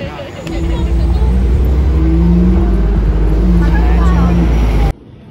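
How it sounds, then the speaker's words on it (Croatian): A car engine runs loud and close for several seconds, a steady low drone with a slight rise in pitch, then cuts off abruptly; a voice is heard briefly over it. "E, ovo je auto."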